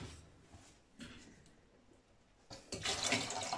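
Tap water pouring into a pot to parboil parsnips in a home kitchen, a soft running stream that stops and restarts, then surges loudly in the final second, with no talk.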